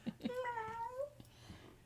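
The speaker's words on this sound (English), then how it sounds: "He does have a pretty loud meow." A pet cat lets out a drawn-out, loud meow that rises and falls over about a second, with brief soft knocks and a faint human voice around it.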